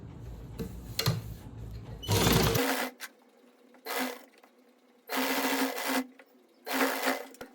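A sewing machine stitches the half-inch cuff of a farshi salwar in several short, loud whirring bursts of rapid stitching separated by pauses, close up and with no talk.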